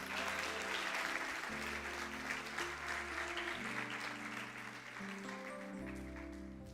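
Church congregation clapping steadily and loudly throughout, a dense wash of applause with sustained music tones underneath.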